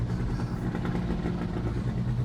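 The engine of a BMW M2 Competition (F87) gives a steady, close, buzzy drone that sounds like a motorbike, holding an even rough note for about two seconds with no talking.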